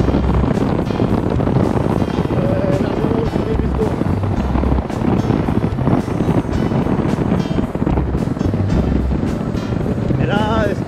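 Loud, constant wind buffeting a microphone while riding an Alrendo TS Bravo on a road trip near Laon, a roaring rumble throughout with someone speaking French beneath it.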